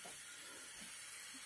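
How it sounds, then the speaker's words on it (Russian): Water hissing steadily inside a deep fryer as its heating element warms up during a repair, a constant broadband steam-like hiss with faint low thumps underneath, no talking. "И начинает вода шипеть."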